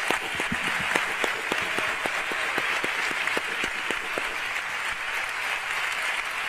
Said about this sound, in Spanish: Así que el aplauso para ustedes, ¿eh?